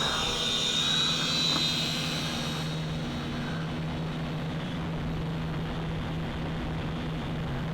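Syma X5C clone quadcopter drone flying high-speed passes in expert mode outdoors, a steady whining motor drone with constant low hum, louder at first then holding level and close, no talking.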